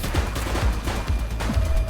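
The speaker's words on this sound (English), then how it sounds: "Light them up! Shots fired!" Rapid gunfire from a police shooter video game set in a city precinct, a dense, loud burst of repeated shots with sharp low thumps at a steady rhythm, close and filling the whole moment with no talking.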